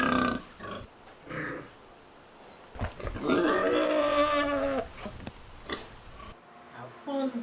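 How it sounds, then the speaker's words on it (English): Pigs grunting and snorting at a farm, several short rough grunts with a longer louder squealing grunt in the middle, close by, with some voices around them. "We'll see the pigs."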